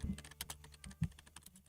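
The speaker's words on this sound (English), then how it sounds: "let's just type this in real quick" Quick bursts of typing on a computer keyboard, soft irregular key clicks close by and quiet, with no voices.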